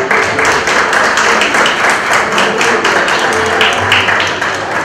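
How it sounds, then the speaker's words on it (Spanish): During a ceremonial procession, an audience applauds young Kenneth Rivas as he enters carrying the Bible. Dense, loud, sustained clapping from a crowd fills the whole stretch without a break. "Más fuerte ese aplauso para Kenneth"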